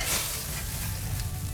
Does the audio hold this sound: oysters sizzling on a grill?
yes